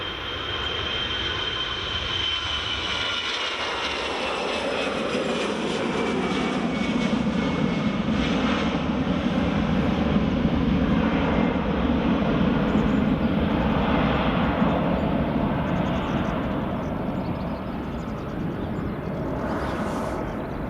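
An EasyJet airliner, a very new aircraft, passes at Edinburgh Airport in the early morning, its engines producing a loud, steady jet roar that swells and holds for about twenty seconds with no talk.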